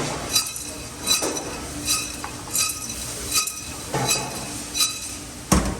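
Raw beans tossed in a sloped sauté pan, giving a series of light clinks and rattles about every seven tenths of a second, ending in a sharper, louder clatter.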